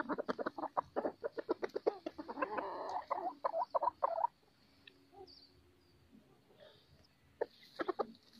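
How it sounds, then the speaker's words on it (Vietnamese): A rooster clucks in a quick series of close, clear calls, pauses, then clucks a few more times, with faint background hum between. "con gà này buồn được hơn tháng rồi nên nó không được bới cảm giác nó thiếu bới"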